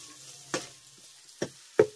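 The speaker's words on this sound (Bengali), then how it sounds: "এবার এই মশলাগুলোকে আমি আগের মশলার সঙ্গে একবার মিশিয়ে এক মিনিটের মতো কষিয়ে নেব" Spice masala with chilli and coriander powder being fried for a spinach dish in a pan: three separate close spatula scrapes over a quiet, low sizzle.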